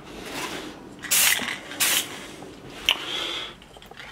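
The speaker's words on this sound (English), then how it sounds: "I'm just trying to focus on getting the spray on the model." Gold spray paint hissing from an aerosol can onto a PLA 3D-printed model, in a few short bursts of about half a second each, close and fairly loud over a quiet background, with a final brief puff.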